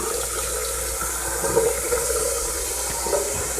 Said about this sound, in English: I'm gonna run the shower, see if I can get some water back here faster.